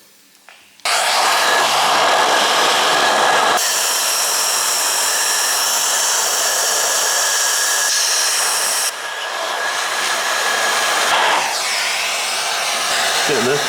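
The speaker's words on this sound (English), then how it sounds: "We're using Cole's Hoover, Mrs. Hoover actually" Household Hoover vacuum cleaner sucking debris from the intake valves of an Audi S3 2.0 TFSI engine, switching on with a sudden loud whine that holds steady as the nozzle is moved around, pitch and airflow shifting slightly.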